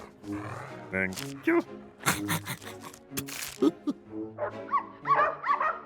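A cartoon dog in an animated comedy gives short, close barks and yelps mixed with bright squeaky cartoon sound effects, with people speaking around it.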